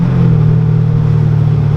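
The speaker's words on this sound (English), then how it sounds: "I like his exhaust setup a lot too" Pontiac GTO fitted with SLP Loudmouth 2 exhaust, a loud, steady deep rumble held at high revs close by, with no talking.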